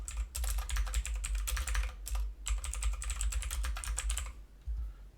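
Close, brisk typing on a computer keyboard, rapid bursts of key clicks separated by short pauses, ending in a few final taps with no talking.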